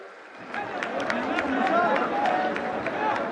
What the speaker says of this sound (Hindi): जोरदार तालियां हर तरफ से।